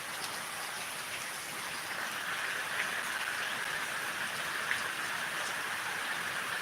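Steady rain patters on surfaces as a continuous, even hiss that holds constant, with a couple of faint drips standing out and no voices.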